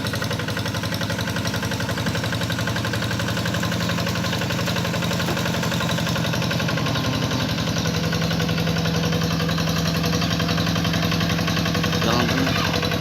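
A tractor engine runs steadily while plowing a flooded rice field, a continuous, even, mid-pitched chugging drone that stays close and unbroken throughout.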